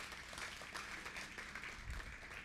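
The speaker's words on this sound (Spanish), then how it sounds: "¿Será que alguien le da un aplauso al Señor?" A church congregation applauds the Lord during a sermon, a soft, continuous spread of clapping hands at a distance, with no voices over it.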